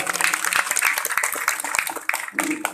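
A crowd at a village head candidate vision-and-mission event applauds for the second candidate, a dense, steady wash of clapping with crisp individual claps close by, lasting under three seconds.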